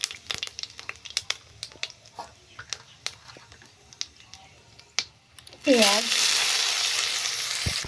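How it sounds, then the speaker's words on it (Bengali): Cumin seeds and bay leaf hit hot oil in a kadai for a Bengali tempering, a loud, sudden sizzle bursting up after a run of light clicks and rustles and then holding steady. "তেলের মধ্যে জিরে ফোড়ন"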